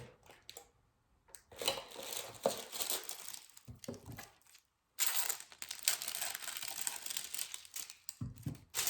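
Plastic bag crinkling and rustling around a bar of cold process soap as it is wrapped, close bursts of crackling separated by brief pauses.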